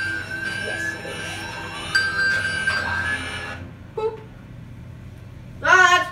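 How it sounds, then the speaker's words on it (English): A phone rings in the Lego DC Super Villains game, a sustained electronic tone over a game ambience, followed by short chirping beeps near the end. "Is that your phone?"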